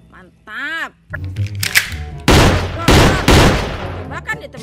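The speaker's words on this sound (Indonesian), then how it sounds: "Tembakan ya teman-teman" Bursts of toy gun shooting, loud electronic zaps and rattling blasts, interleaved with a warbling tone and a person talking.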